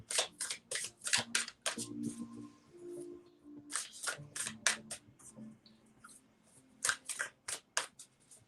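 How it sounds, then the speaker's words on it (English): A tarot deck is shuffled and dealt out in quick, crisp riffles and card slaps that come in bursts, up close, with a faint low murmur underneath. "I want to lay these cards out. This deck doesn't like to be shuffled."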